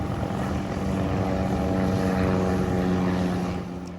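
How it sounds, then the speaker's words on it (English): Small propeller planes taking off from Rock Hill York County Airport, a loud, continuous engine drone close by that swells slightly and holds steady, then tapers near the end. "Planes taking off from that airport just before noon on Saturday"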